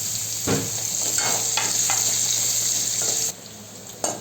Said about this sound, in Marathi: मग हे गाजर टाकूया, याला पण थोडंसं अर्धा कप फ्राय करून घ्यायचं।